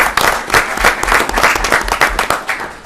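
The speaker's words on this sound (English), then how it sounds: "Big round of applause." Audience applause at a school committee meeting, a steady burst of dense clapping from a room full of people lasting a few seconds, loud and close, with a few voices mixed in.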